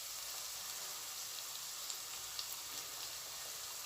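Spices and onion sizzle steadily while frying in a pan for stuffed chicken with rice and minced meat, a continuous close hiss with faint crackles and no talking.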